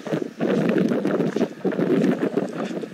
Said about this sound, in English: It's windy too, you might hear a bit of wind